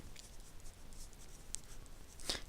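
Marker or pen writing on a folded paper flap, faint scratchy strokes with a couple of brief sharper taps, quiet and close.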